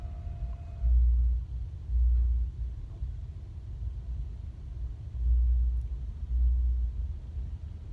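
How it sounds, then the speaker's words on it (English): Car traffic on the Bay Bridge rumbles low and steady, with heavy deep swells of rumble every second or so, heard from inside a stopped or slow-moving vehicle with no talking. "Stuck in traffic on the Bay Bridge."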